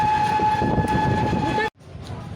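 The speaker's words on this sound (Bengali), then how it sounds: "ট্রেনটা কত ছোট্ট লাগে না" A small train rumbles past with a steady sustained horn blast over heavy rolling noise, loud and close, cutting off abruptly near the end to quieter ambient sound.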